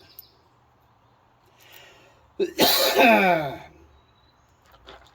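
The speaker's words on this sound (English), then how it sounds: "Let's shake this little cough I got." A single sharp cough bursts out close by, briefly loud against a quiet background, with faint bird chirps around it.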